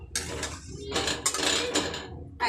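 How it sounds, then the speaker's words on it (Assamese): A lid is set onto a cooking pot in a home kitchen where potatoes are being prepared, giving a few close metallic clinks and scrapes over about two seconds with no talking. "এতিয়া মই এইটো ঢাকন লগাই দিওঁ"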